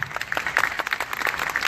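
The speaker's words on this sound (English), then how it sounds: "can we please give them a huge round of applause?" A convention audience at a Maine cannabis event gives panelists a brief round of applause, with scattered, moderately loud handclaps for under two seconds.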